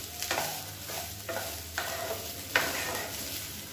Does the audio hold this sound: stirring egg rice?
yes